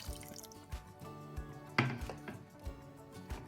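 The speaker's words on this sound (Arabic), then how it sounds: "بعد السكر كده هنزل بعصير برتقال عليه كده" Orange juice is poured over sugar in a cooking pot for bitter orange jam, giving soft liquid splashes and drips with a few sharp knocks, close and without talk.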